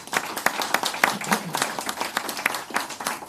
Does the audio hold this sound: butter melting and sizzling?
no